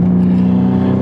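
Porsche Cayman, a 2007 mid-engine car fitted with a Fabspeed exhaust, running loud and close with a steady deep engine note; the exhaust burbles are not clearly picked out.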